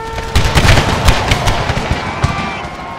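Rapid, ragged volleys of musket fire from a Civil War infantry line in a strategy game, with sharp cracks and booms overlapping in dense bursts before thinning out.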